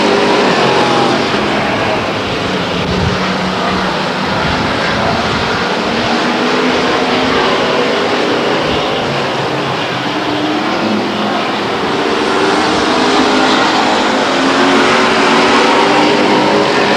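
Race cars roar around Stockton 99 Speedway in a 1999 oval race, a continuous loud wall of engine noise from a tightly packed field that swells and sustains without a break.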